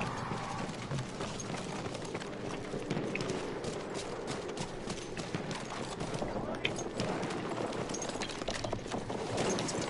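Horse hooves clip-clop in a fast, steady rhythm across the whole stretch in the video game Battlefield 1, with a voice talking over the galloping and distant pops of gunfire.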